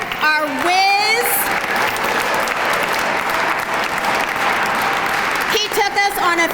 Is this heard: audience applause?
yes